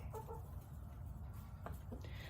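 Chickens on a homestead cluck softly in a few short bursts over a steady, noisy outdoor rumble, close but not loud.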